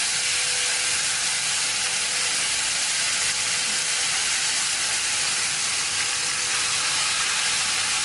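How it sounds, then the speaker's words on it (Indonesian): Sambal sizzles and hisses loudly in a hot pan as it is stir-fried, a dense, continuous frying noise that holds steady from start to finish with no speech over it. "setelah itu kita akan tumis sambalnya"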